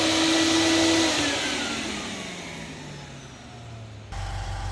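A vacuum cleaner powered from a shared multi-motor unit runs loud and steady with a falling whine as it spins down, then the drone shifts to a lower, rougher hum near the end.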